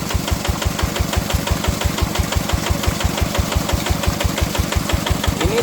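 An idling tractor engine converted into a water pump knocks at a steady, rapid beat, close and continuous, with water noise faint beneath the rhythmic chugging.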